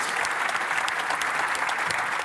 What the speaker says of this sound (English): please have a round of applause for Lukas because he did such a great job.